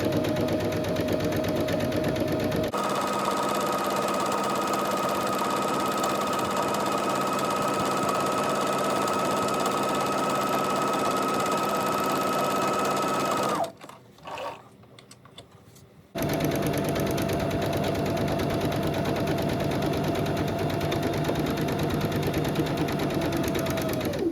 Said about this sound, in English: Just going to do a zigzag stitch down the seam. All 3 panels.